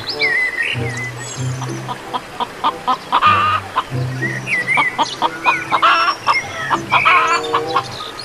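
A toy rooster crows and clucks with electronic-sounding calls over a steady mechanical hum and jingly tones, loud and close, with no talking.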